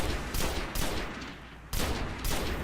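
Bursts of video game gunfire in Destiny aimed at a boss's legs, loud and close, with sustained rapid shots that pause briefly mid-way before resuming.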